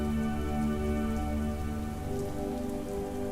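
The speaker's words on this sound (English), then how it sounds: "There's a lot of rain" Heavy Mexican summer rain pours steadily onto surfaces nearby. The dense patter stays constant and fairly loud throughout, with no voices.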